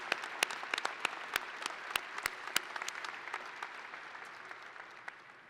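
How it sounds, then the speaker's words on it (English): Applause at a university commencement ceremony, a crowd clapping with sharp, distinct hand claps standing out early, then thinning and fading into a softer, sparser patter toward the end. "How about another round of applause for our First Lady and our newest graduate, Governor Holcomb."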